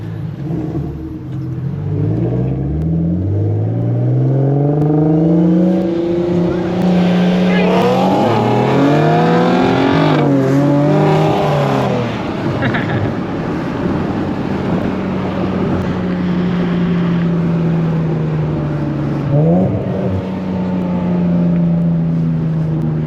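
A Nissan 370Z Nismo accelerates hard, its engine climbing through the revs in repeated rising sweeps, with gear changes breaking the pull, close and loud throughout.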